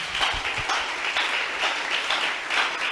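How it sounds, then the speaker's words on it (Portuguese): A church congregation applauds in steady, continuous clapping that fills the space, fairly loud and sustained, with no talking over it. "Aplauda o Senhor, igreja."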